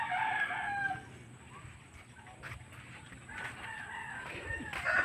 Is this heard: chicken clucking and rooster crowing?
yes